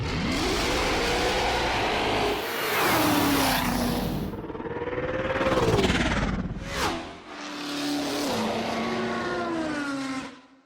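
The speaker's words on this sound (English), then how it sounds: "something that mimics like a race car, actual race cars passing by, the Dopplers" Race car samples played from the high keys of a keyboard, with several loud passes that each rise and then drop in pitch as the engine roars by, one after another with no gap between them.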